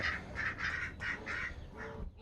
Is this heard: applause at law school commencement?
no